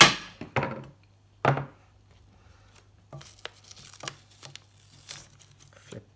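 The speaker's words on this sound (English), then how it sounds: "gently peeling off some more tape and upending it again" Adhesive tape is peeled and handled while covering chipboard for a wallet-style album, giving sharp crinkling rips and tearing bursts at first, then scattered soft taps and rustles, close and alone.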